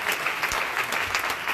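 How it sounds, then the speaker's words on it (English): Church congregation applauding in a hand clap of praise, dense, lively clapping with sharp individual claps standing out, loud and sustained throughout. "Give God a hand clap of praise."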